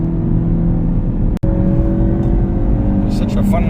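A 2017 Ford Focus RS surges out of a corner under hard acceleration, its engine droning steadily and close from the cabin, with a brief dropout partway through.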